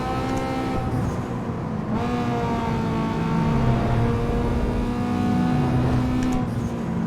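A Mitsubishi Evo's engine drones loud and steady in a racing video game, pitch rising and falling through gear shifts, with traffic noise close by.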